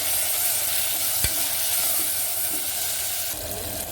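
Tomatoes sautéing in a hot pan for mutton paya give a loud, dense, continuous sizzle with occasional stirring scrapes and a brief thud, close up and with no talking.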